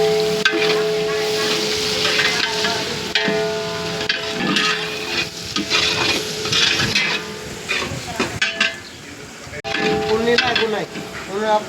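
Chilli, ginger, garlic and mint fry with cumin and mustard seeds in a large pot of tempering for a big batch of food, sizzling steadily while a utensil stirs and clinks against the metal, with talk over it.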